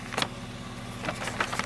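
A Honda Civic engine idles smoothly with a low, steady hum, overlaid by a few faint clicks and light rustles nearby.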